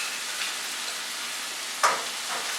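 Meat frying in a pan with seasoned vegetables for tacos: a steady, even sizzle throughout, with a brief sharper crackle near the end.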